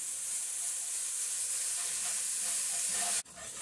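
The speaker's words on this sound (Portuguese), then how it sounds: "Vamos dar uma fritadinha aqui no alho" Garlic fries in a pan with a steady bright sizzle and hiss that cuts off abruptly near the end, leaving a quieter crackle.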